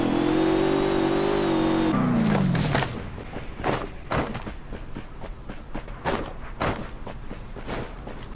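A video game car engine revs hard and loud with a rising whine for about two seconds, then drops away into scattered thumps, footsteps and clatter of in-game action.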